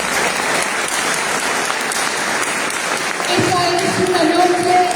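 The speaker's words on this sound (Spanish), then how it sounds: "¿Cuánto le aplauden al Señor?" A church congregation applauding, with dense sustained clapping from a crowd filling the whole moment and a voice speaking over it near the end.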